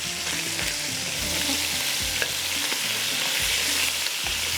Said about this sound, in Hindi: ये चिकन जो है इस तरह से फ्राई होगा।